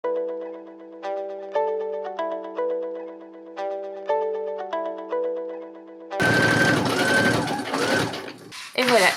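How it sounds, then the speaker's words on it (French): A sewing machine stitching the front band of a parka: a dense, loud mechanical rattle that starts after several seconds of a repeating, chime-like melody. "Et ensuite, je vais coudre en bas."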